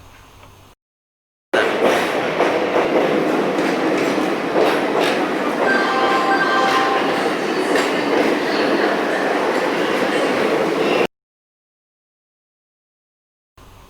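A South Central Railway train rolls past with a loud, steady rumble and rhythmic wheel clatter for about nine seconds, with silence before and after.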